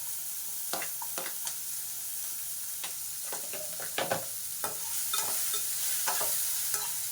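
Onion and capsicum pieces sizzle in a hot pan for pasta while a spoon scrapes and stirs in irregular knocks, the frying hiss steady beneath the sharper stirring sounds.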